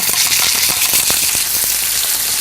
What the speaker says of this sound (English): I've got it to a smoking point because this is a pan-sear